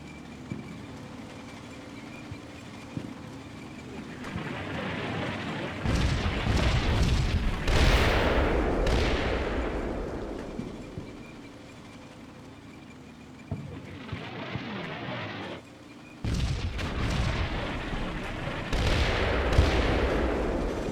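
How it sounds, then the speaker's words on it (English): Artillery barrage in Combat Mission: Cold War, with heavy booming shell impacts and rumbling explosions arriving in waves, some distant and muffled, others close and loud, separated by quieter lulls. "So that artillery is still coming down."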